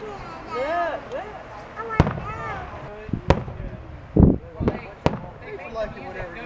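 Fourth of July fireworks go off outdoors, with several sharp, loud bangs and pops spaced a second or so apart, while people talk excitedly in between.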